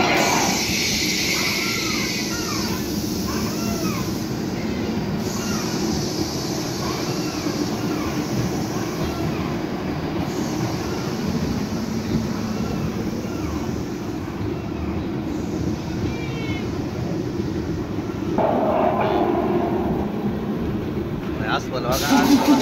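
Electric amusement park ride train running on rails, a steady rumbling roll with rattling, under loud excited chatter from passengers throughout.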